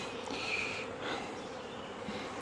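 Low, steady buzzing drone of honeybees at an opened hive one week after a split, faint and continuous with a few brief higher whines of individual bees passing close.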